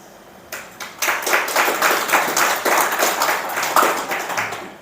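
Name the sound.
audience applauding at a religious moderation talk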